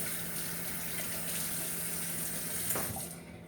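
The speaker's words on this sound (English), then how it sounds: "just wash my hands off." Hands are rinsed under a running kitchen tap, a steady close wash of water with no talking that thins out and softens in the final half second.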